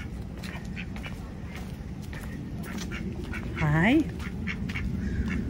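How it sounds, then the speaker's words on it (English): A single duck on a residential canal gives a short, clear quack near the end, while a person nearby speaks a brief greeting amid soft outdoor background noise. "And here's the first duck on our way."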